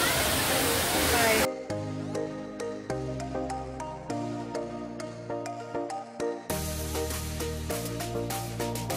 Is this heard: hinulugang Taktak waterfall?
yes